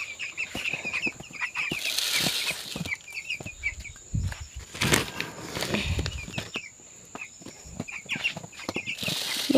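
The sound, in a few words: chickens clucking while being fed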